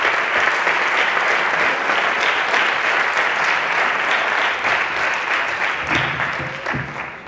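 Audience applause at an international film festival, a dense, loud wash of many hands clapping steadily throughout, easing slightly toward the end.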